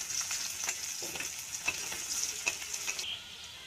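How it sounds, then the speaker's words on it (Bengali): Onion and garlic fry in a pan while being stirred, a soft steady sizzle punctuated by light scraping strokes, close and fairly quiet, with no talking. "এবার এটাকে নেড়ে চেড়ে কিছুক্ষণ ভেজে নেব"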